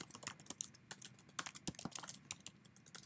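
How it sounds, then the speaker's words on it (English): Rapid, uneven keystrokes on a computer keyboard click close and fairly quiet in irregular bursts, with no talking. "My typing is appalling."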